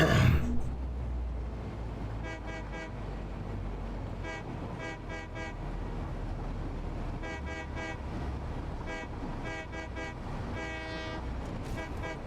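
Train horn in the factory-building game Satisfactory, sounding in repeated short toots and longer blasts over a steady rumbling engine and game ambience, loud and close throughout.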